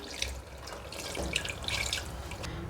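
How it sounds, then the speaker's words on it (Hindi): Half a cup of water splashes and trickles into a cooking pot of chicken karahi, a short close pour with bright droplet sounds and no talking. "अब मैं इसमें हाफ़ कप पानी डाल रही हूँ।"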